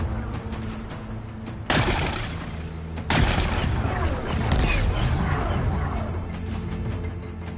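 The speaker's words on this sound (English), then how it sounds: "Gotta blast away some rocks, so I can expose the power cell." In the Horizon game, rocks are blasted apart to expose a power cell, with two sudden loud crashing explosions followed by rumbling, crumbling debris under a steady game background.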